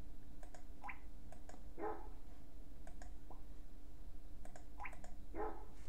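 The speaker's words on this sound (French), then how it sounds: "C'est bon, l'aboiement fonctionne." A recorded dog barking plays back as a computer sound test, a few short barks in two pairs, fairly faint against a steady background hum, with no one talking.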